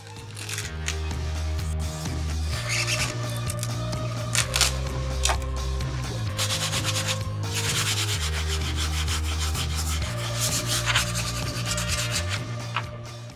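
Dry foam mold being hand-sanded to shape for a fiberglass fender on a 1970 Honda ATC 90, a close, steady rhythmic rasping of repeated strokes with a low hum underneath and no speech.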